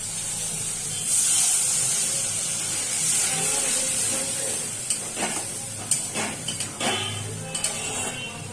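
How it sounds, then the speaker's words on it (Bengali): Water poured into a pan of oil-fried spices for a Bengali dried-fish (lote) curry gives a loud hissing rush and sputter, followed by scattered crackles and clinks toward the end. "এবার আমি এর মধ্যে দিয়ে দেবো জল"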